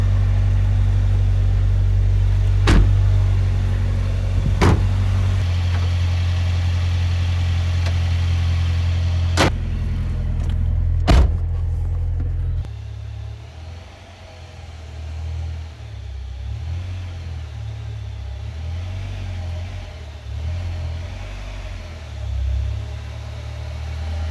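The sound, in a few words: 1997 Suzuki Sidekick engine running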